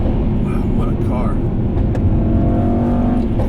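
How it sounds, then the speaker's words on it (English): Stock exhaust of a 2018 Mercedes-AMG E63S wagon popping and crackling on overrun after a corner, a loud steady engine drone with sporadic crackles beneath someone talking over it. "Got some popping and cracking back there. Standard exhaust."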